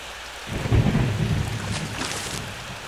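Thunder rumbles through a stormy night level of the video game Plants vs Zombies, a deep low roll swelling after half a second and fading out under steady hiss of rain.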